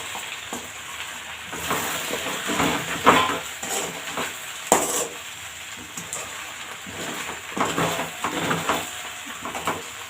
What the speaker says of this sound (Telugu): సన్నగా కట్ చేసిన కొత్తిమీర వేసుకొని దీన్నంతా ఒకసారి మిక్స్ చేసుకోండి